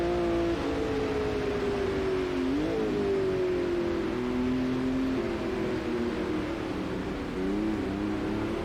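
Formula Vintage G2 race car engine in the Automobilista 2 sim racing game, droning steadily at sustained revs with small pitch dips and rises as the car shifts and corners, loud and continuous throughout.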